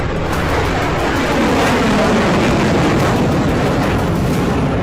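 A deep, sustained roaring blast rumbles continuously, heavy low booming with no break, like a powerful explosion heard up close.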